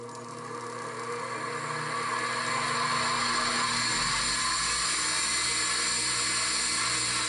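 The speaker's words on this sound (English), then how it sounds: "One of the things I got at the auction was this bench grinder. It's an 8-inch" An old 8-inch bench grinder with a wobbling wheel runs steadily up close, a loud sustained motor whine with a high metallic ring that builds slightly at first and then holds even.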